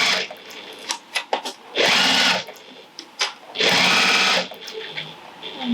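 Two short, loud bursts of a sewing machine stitching over the join of a clutch wrist strap. Each burst lasts about a second, and quieter handling noise fills the gaps between them.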